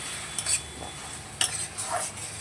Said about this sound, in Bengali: আরও একটু জল দিয়ে দিলাম, দিয়ে আবারও মশলাটাকে একটু ভালো করে মিশিয়ে নেব।